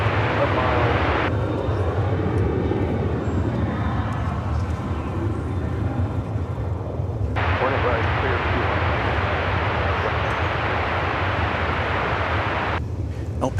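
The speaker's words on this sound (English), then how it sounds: "Next to take off, though, is American Flight 1368 to El Paso." American Airlines Flight 1368, bound for El Paso, takes off from DFW Airport with a loud, steady jet roar that holds throughout and swells in the middle before easing slightly.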